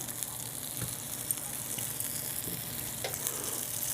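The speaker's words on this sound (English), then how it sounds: "placing the bean burgers in the pan. And because they're canned beans, they're pretty much done. So you're just browning them on both sides." Canned-bean burgers brown in a frying pan with a soft, steady sizzle and crackle, heard close but quietly throughout, with faint scraping of a utensil.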